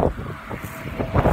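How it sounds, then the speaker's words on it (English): Wind gusting hard outdoors in Port Bolster, Ontario, buffeting the microphone with low rumbling surges that swell and fade over a short stretch, with no voices. "All right, it's very windy."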